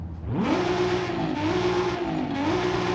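A Toyota Supra with a race exhaust revs in Forza Horizon 5, giving a raspy, high-pitched engine note. It climbs quickly, holds steady, dips briefly and surges again, loud and continuous throughout.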